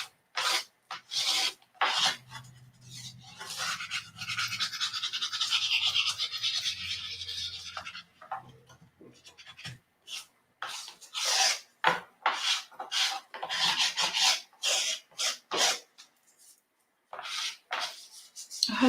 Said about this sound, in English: I'm going to use one of the IOD little plastic burnishers and just kind of rub it in.